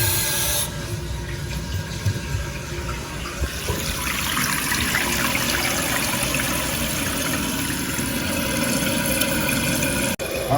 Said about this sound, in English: we want this water to fill up without overflowing in the tube